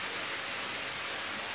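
Pancake batter sizzling in a hot pan greased with butter or margarine for a cheese pancake, a steady, even hiss of frying with no other sounds.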